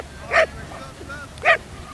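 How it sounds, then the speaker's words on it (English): A dog barks twice, short and sharp, about a second apart, fairly faint against a quiet background. "Man, all these dogs."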